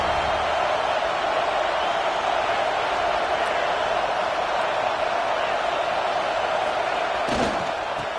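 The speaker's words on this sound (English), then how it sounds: "Listen to this crowd just shaking the girders of this place" Stadium crowd roaring at a football game late in the contest, a loud, dense, sustained wall of cheering with a brief thump near the end.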